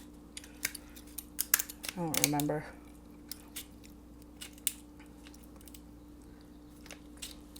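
Sharp snipping and crunching clicks from cheap scissors cutting through king crab leg shell, scattered irregularly, with a brief voice speaking partway through.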